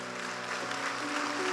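Steady applause from a church congregation for Pastor Evandro, a continuous wash of clapping at moderate loudness with no clear break and no talking.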